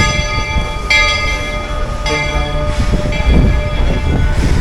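A bell tolls with long ringing, harmonic-rich strikes repeating every second or so, loud and close, over a low rumbling background, with no one talking.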